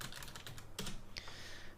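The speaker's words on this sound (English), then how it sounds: "I'm just hitting the tab key to bring up my tab menu, typing in the first few letters of transform and hitting enter" Quiet computer keyboard keystrokes come in a quick burst of typing and a couple of sharper, separate presses, with no voice.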